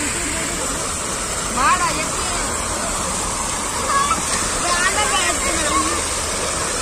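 Water flowing at the Raj Ghat memorial as children bathe, a constant rushing wash that fills the background while voices talk over it at a moderate distance.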